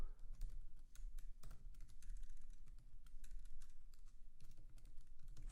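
Code being typed on a computer keyboard: quiet, close, irregular key clicks in quick bursts and pauses over a low hum, with no talking.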